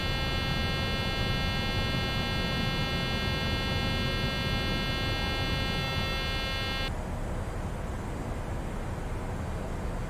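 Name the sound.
cockpit warning beeping in video game Microsoft Flight Simulator 2020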